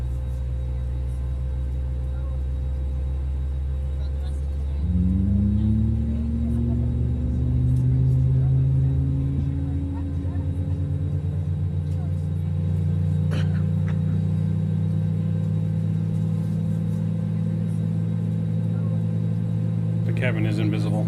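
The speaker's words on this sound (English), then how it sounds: "Just gonna go back here so we can hear the engine." Airbus A321 jet engine in Microsoft Flight Simulator, a steady low drone that spools up around five seconds in and holds a higher whine, with brief clicks and faint talk.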